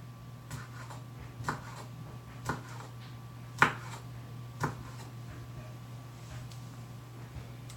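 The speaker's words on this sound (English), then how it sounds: "just run your knife through the smashed garlic" Knife blade striking a cutting board while chopping smashed garlic, a handful of separate sharp taps spaced unevenly over a steady low hum, close and fairly quiet.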